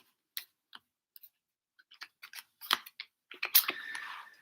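A tarot card is drawn from the deck, with sparse, faint papery ticks and shuffles building into a brief run of closer card-handling clicks and a soft rustling slide at the end.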